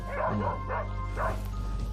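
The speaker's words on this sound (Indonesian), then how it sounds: "Pokoknya selalu ada gonggongan, terus lolongan dari setiap anjing." Dogs bark and howl in three short, loud, wavering bursts about half a second apart over a steady low rumble.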